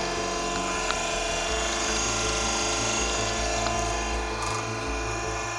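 An oil dehydration unit with a pump and filter runs as a continuous mechanical drone, layered with rattling, whirring motor and pump tones, steady and close.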